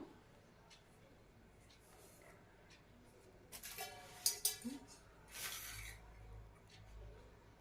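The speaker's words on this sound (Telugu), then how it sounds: "ఈ ఇలాంటి బీన్స్ని మనం కట్ చేయడానికి చాలా ఇబ్బంది పడతాం కదా సో వీటిని చాలా ఈజీగా నేను ఇప్పుడు కట్ చేసి మీతో చూపిస్తాను" A handheld vegetable cutter slicing beans in a kitchen: a faint quiet stretch, then a short burst of sharp scraping, clicking chops and two bright clacks, ending in a softer rub and a low thump.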